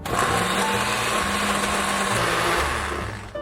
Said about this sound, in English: now we're gonna add our olive mixture. And we're gonna puree this until very smooth.